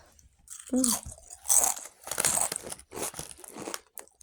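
Someone bites and chews crunchy snacks kept for a week or two, giving several loud close crunches in bursts, with brief talk in between.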